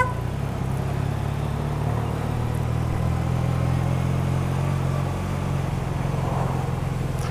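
A motorcycle engine with freshly synchronised carburettors and a new carb kit idles steadily at low revs, an even, close, continuous rumble without misfires.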